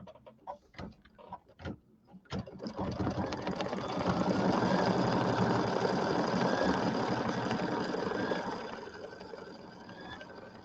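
Embroidery machine stitching a tack-down line on a Kimberbell Cutie table topper, starting after a few light clicks, then a steady, close, continuous mechanical whir with rapid needle rhythm that eases slightly near the end.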